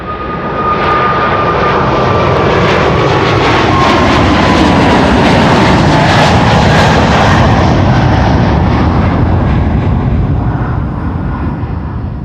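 A KLM wide-body jet airliner, flight 597 to Cape Town, passes close by at Amsterdam Schiphol with a very loud, sustained engine roar that swells and holds, with a faint whine sliding down in pitch.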